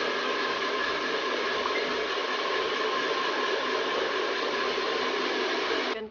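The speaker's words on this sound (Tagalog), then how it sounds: "papatuyin ko lang po siya sa electric fan" An electric fan blows steadily to dry freshly dyed and conditioned hair at home, producing a continuous, even whoosh of air that holds constant, close by, with no talking, then cuts off at the end.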